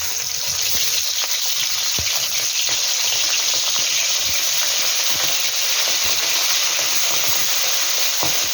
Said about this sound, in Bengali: মাছকে ফ্রাই করে নেব বন্ধুরা। আমার কড়াই গরম হয়ে গেছে।